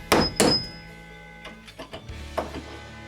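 Vice grips clamped on a corrugated staple in an RV cabinet slip off with two sharp metallic clacks up front, followed by softer knocks and shuffling taps as the tool is handled, close and alone.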